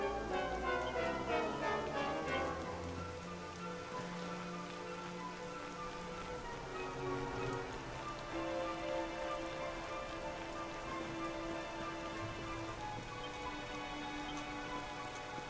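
Steady rain pattering on surfaces in a video game, a continuous even hiss that runs throughout beneath soft sustained tonal music, with no voices.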